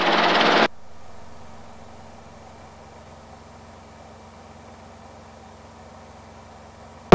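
A Robinson R22 helicopter in flight, heard from inside the cabin as a steady low engine and rotor drone that holds evenly throughout after a short burst of loud radio static at the start.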